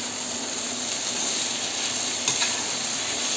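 Beans, carrots and fresh green peas fry in a pan for rava kichadi, a close, even sizzle with faint stirring scrapes and one brief clink, no voices.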